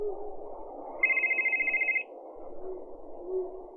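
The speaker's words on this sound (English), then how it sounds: "The phone going off." A phone ringtone trills in a rapid electronic pulse for about a second, sharp and clear above a low murmur of background noise, then cuts off abruptly.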